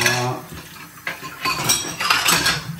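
Dishes and cutlery are rinsed and washed at home, with close clattering of plates and clinking utensils over a light wash of running water.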